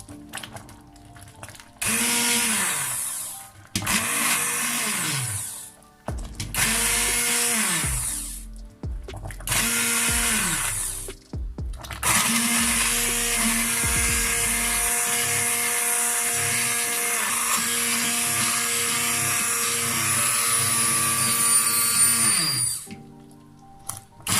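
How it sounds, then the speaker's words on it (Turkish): A hand blender whirs through boiled damson plums in several short bursts with pauses between, its motor pitch dipping under load, then runs in one long continuous stretch. "Şimdi el mikseri kullanarak bunları istediğimiz ebatlardan çekelim."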